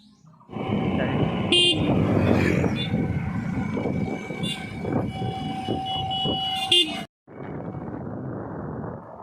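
Busy road traffic in Shyamnagar, engines rumbling close by with several short car horn toots sounding over the din, then a sudden cut and a quieter stretch of traffic.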